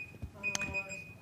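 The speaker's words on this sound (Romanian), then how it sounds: "Asta a fost timerul meu de prezentare." A presentation timer beeps at a talk, a steady high electronic tone holding for about half a second amid room noise and faint voices.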